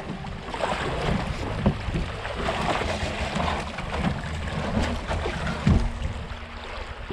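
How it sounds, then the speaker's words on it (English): Canoe paddling across a wilderness lake in Quetico, leaving a campsite with a tailwind: steady water swash and hull wash under broadband wind noise, with a few soft paddle splashes and knocks. "We're paddling away from our final site for this trip"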